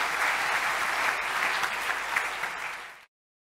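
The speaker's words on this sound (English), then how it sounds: "So, applause." Audience applause at a machine learning conference talk, a steady dense clatter of many hands heard from within the room, fading out and stopping abruptly near the end.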